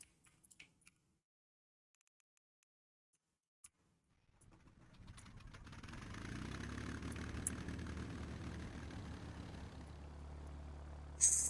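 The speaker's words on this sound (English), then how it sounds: "I've got to hear the Rolls-Royce Merlin engines of the Supermarine Spitfire" Rolls-Royce Merlin piston engines of a Supermarine Spitfire in a video game, starting from near silence after a few faint ticks and swelling into a steady, loud, rumbling drone that holds to the end.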